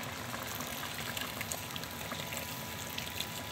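Water pours steadily into a pot of okra and potato stew with tomato paste, a continuous close splashing rush with no talk over it.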